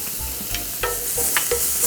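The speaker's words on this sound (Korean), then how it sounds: "저희 다진 마늘 넣어서 볶을 건데 너무 팬이 뜨겁게 예열하면 막 튀어요" Minced garlic sizzles in a preheated cast-iron pan, crackling steadily up close while a utensil stirs it with a few sharp scrapes and clacks.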